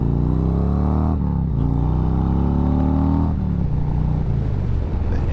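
A Harley-Davidson Street Glide with the 117 engine revs while being ridden, loud and close, with rising pitch sweeps, a brief lift-off, then more throttle, all with no voices.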